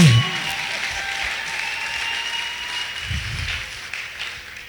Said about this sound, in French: Clap well if you want to clap